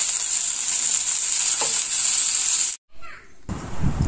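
Food fries in a pan with a steady, loud sizzle for most of the time. It stops abruptly, then returns more faintly alongside some low clatter.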